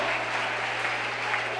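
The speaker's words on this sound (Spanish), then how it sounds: "un aplauso grande para él" A church congregation applauds at a Spanish-language service, a dense, steady clapping that fills the short moment without any voice over it.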